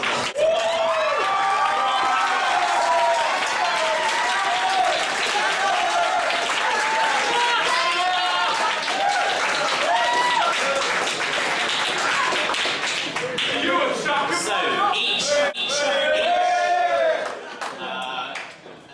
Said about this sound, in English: So carry on kind of cheering and getting involved.